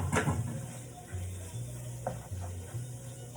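Sausage chunks being stirred into a pan of pimiento filling, with soft scraping and clinks of a utensil against the pan over a low sizzle, close and steady with no talking.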